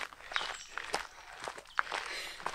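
Footsteps of hikers on a trail at Wilsons Promontory in Australia, a faint uneven shuffle of several steps at a walking pace, heard from close by with no talking over them.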